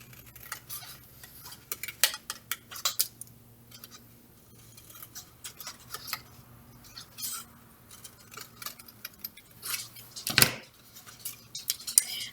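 Scissors cut paper for an Easter craft in a series of short, crisp snips with light clicks and clatter, close by over a faint low hum, with no one talking.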